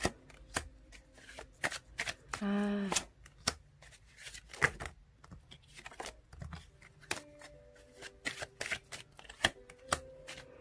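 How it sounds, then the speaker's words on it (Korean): Tarot cards being shuffled and drawn, a string of crisp riffling flicks and slaps spread across the whole stretch, with a brief burst of riffle near the start and a voice talking between the card sounds. "카드 한번 뽑아볼게요"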